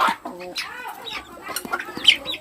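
A small chicken clucks close by in a series of short, uneven clucks and squawks, with some voice-like sounds mixed in.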